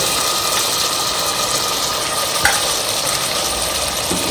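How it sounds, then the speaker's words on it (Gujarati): Stuffed onion curry being gently stirred with a spoon in a pan, a soft continuous scraping and sizzling texture with one small clink midway, close and steady, no talk. "હવે ધીમા ચમચી આપણે આ શાકને હલાવવાનું છે"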